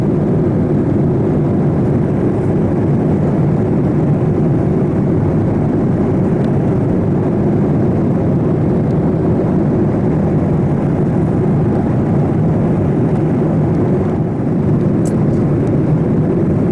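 Steady airliner cabin roar while cruising over the Atlantic, a dense, even drone holding constant for the whole stretch with no breaks or voices.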